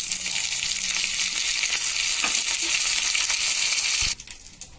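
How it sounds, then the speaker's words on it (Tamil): Crushed garlic and curry leaves fry in hot oil for a tempering, giving a loud, continuous close-up sizzle and crackle that cuts off abruptly near the end, leaving faint scattered clicks. "பூண்டு லைட்டாக செவந்து வருது"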